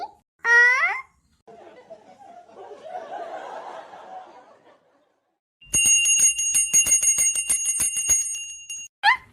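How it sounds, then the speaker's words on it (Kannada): A handheld brass bell rung during a home puja in a comedy skit, about three seconds of rapid, bright, ringing strokes after brief voices and a soft rustling stretch. "ಗಂಟೆನ ಬಾರಿಸ್ಬಿಟ್ಯಾ?"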